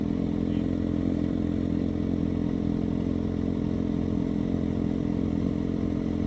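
A motorcycle pulls away from a parking bay, its mid-pitched engine running steadily and close by with a constant droning hum and light clatter throughout, no voices present.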